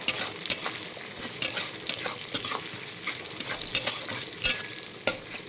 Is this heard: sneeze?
no